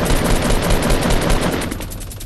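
Dense, rapid automatic gunfire from a shooting video game, loud and continuous bursts that thin out slightly near the end, with no voices over it.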